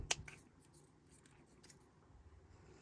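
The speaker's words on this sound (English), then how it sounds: "take my scissors and just snip these little corners off" Scissors snip corners off small white paper card scraps, one sharp close cut at the start followed by fainter rustles and light clicks in a quiet room.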